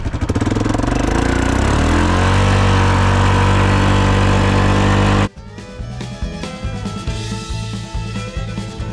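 Engine of a Yamaha Grizzly ATV running at speed, a loud, steady mid-pitched drone that rises in pitch, then shifts abruptly to a rougher, pulsing tone for the final seconds, with no talk.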